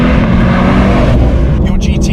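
A Porsche 911 992.2 Carrera T with a six-speed manual gearbox accelerates, a loud, steady engine roar filling the short stretch, with a driver talking over it.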